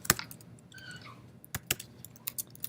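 Quiet, close clicks of a computer keyboard being typed on in short irregular bursts, with brief pauses between keystrokes and no talking.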